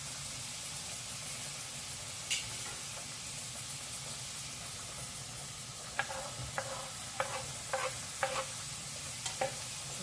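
Ginger sautéing in a pan for kootu, a soft continuous sizzle with a quiet steam hiss, then a run of spatula scrapes and taps in the second half, close but low in level.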